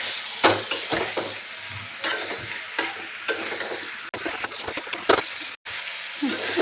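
Chicken coated with salt and yogurt fries over a high gas flame, a continuous crackling sizzle broken by scraping stirs and clatters of a spatula against the pan, close and loud, with a moment of near silence.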